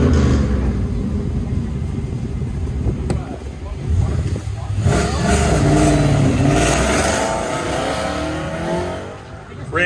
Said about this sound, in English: Randy's coming up in the Fox Body Mustang 1993 with a 5-liter engine